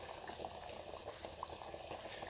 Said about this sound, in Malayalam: അപ്പോൾ തിളയ്ക്കുന്നുണ്ട്.